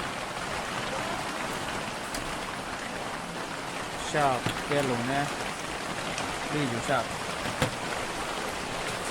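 Steady heavy rain in Matheran makes a dense, even wash of noise throughout, while people chat briefly over it in the middle and a sharp tap sounds near the end.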